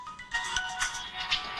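Mobile phone ringtone plays a bright, repeating electronic melody of short pulsing tones, moderately loud, with no voices over it.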